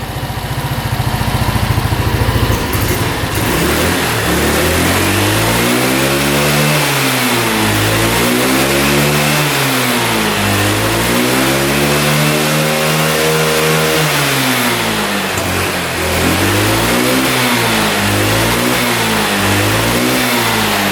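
Close, loud small-engine revving, the pitch climbing and dropping in a series of repeated surges with no voices.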